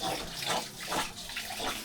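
Water gushes from a tap in a steady, loud rushing flow, with no talk over it.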